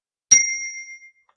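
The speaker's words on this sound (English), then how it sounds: "Here comes the bell." A single strike of a prayer bell gives a clear, bright ding that rings on and fades away over about a second, alone in silence.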